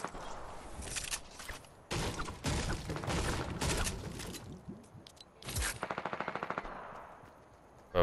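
Small submachine gun firing in a Fortnite match: several loud, close rapid bursts separated by short gaps, ending in a fast rattling string of shots, with no talk over them.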